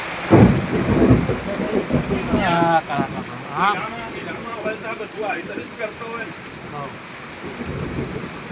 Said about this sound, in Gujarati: કડાકા ભડાકા વરસાદ પડે.